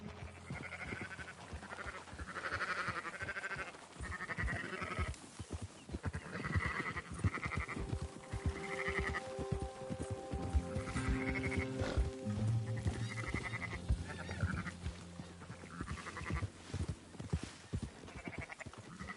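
Herded livestock in Red Dead Redemption 2 bleat repeatedly in a busy, overlapping chorus of sheep- or goat-like calls, near and fairly loud, with occasional shuffling between cries.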